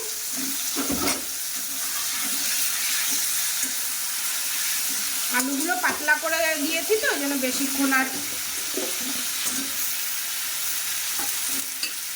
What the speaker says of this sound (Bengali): চলো আলুটা ভেজে নিয়ে আসছি